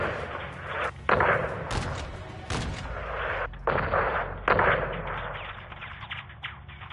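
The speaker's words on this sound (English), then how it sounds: "Hit the gate with a missile or the 40 mic mic." Missile strikes and heavy cannon fire hitting a gate during a Modern Warfare II campaign mission, a run of loud booming impacts and blasts, several sharp hits followed by rumbling explosions that fade toward the end.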